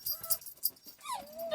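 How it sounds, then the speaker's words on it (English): Dogs indoors give a few short whimpering yips and a rising whine, close and moderately loud, in brief bursts with quiet gaps. "And my dogs are going to bark again because somebody's out walking around."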